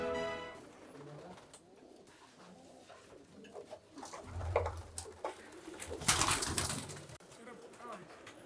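Racing pigeons coo softly in a loft, with repeated low, throaty calls and a few wing rustles, under faint background voices and scattered movement noise.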